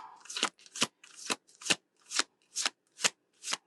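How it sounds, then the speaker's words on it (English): A tarot card deck being riffle-shuffled, with eight crisp, even bursts of fluttering cards in a steady rhythm, close and clear with no voices. "This is going to be the last shuffle here."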